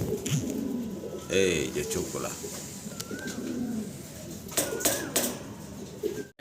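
Fancy Parbin pigeons cooing and calling close by in a loft collection, low soft coos repeating through the clip, with people talking over them and a few sharp clicks.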